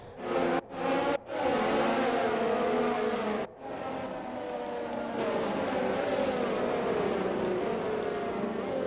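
Race car engines in a racing video game drone loudly and close as cars roll up to the start line, a steady throaty hum with a few brief cuts and slight shifts in pitch, little or no talk.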